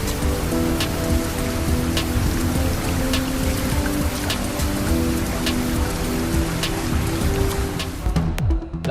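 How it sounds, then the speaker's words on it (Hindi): Steady rain falls over Lahore under dark monsoon clouds, a dense, even hiss of drops on surfaces that runs continuously at moderate loudness before a brief low rumble near the end. "लाहौर में बारिश की तीसरे रोज भी भरपूर इनिंग्स। आसमान पर काली घटाओं और रिमझिम से मौसम खुशगवार।"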